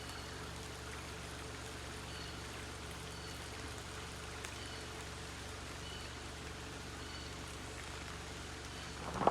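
A small stream trickles and flows steadily under a country road, a constant close wash of water with no voices.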